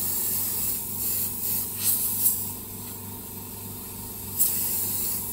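An airbrush purging SMS model paint thinned with thinner, giving a continuous close hiss of air and spray with a few brief sharper bursts.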